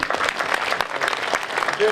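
A studio audience gives a short burst of clapping, busy and uneven, with a voice speaking over part of it.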